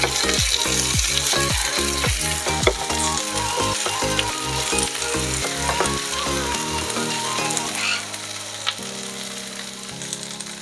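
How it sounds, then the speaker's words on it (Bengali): Garlic, ginger, tomato and green chillies sizzle in hot oil in a pan while a spatula stirs them, giving a steady crackle with repeated scraping strokes over background music, with no talking. "কুচিয়ে রাখা রসুনগুলো দিয়ে দেব আদাটা দিয়ে দেব টমেটম কাঁচা লঙ্কা সবগুলোই এবার তেলের ওপরে দিয়ে দেব দিয়ে ভালো করে নাড়াচাড়া করে নেব"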